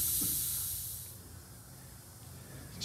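Compressed air hissing from a leak on an MCI 9 bus, a loud sharp hiss close by that fades after about a second, followed by quieter shop background and a brief renewed hiss at the end.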